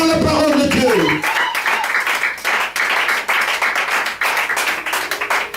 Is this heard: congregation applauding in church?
yes